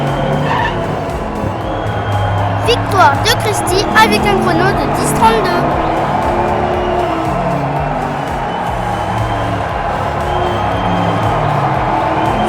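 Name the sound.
diecast toy racing cars running along a track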